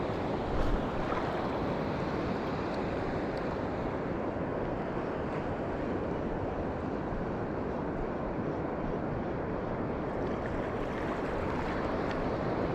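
Huge ocean swells break near a fishing spot, giving a continuous, close roar of churning surf with heavy wind rumble over the microphone and no talking.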